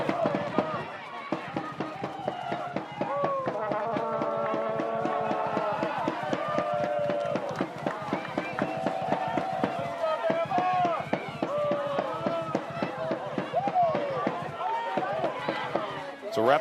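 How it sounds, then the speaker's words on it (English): An Alabama home crowd chants a steady, rhythmic Roll Tide roll during a 2022 NCAA women's soccer match against South Carolina in Tuscaloosa, with a loud, continuous sing-song roar punctuated by regular beats throughout. "Roll Tide roll, they cheer."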